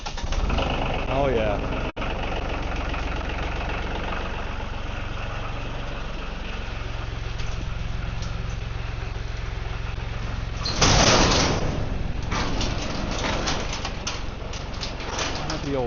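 A diesel tractor engine runs at a steady idle throughout, with a louder surge partway through, and someone speaks briefly over it.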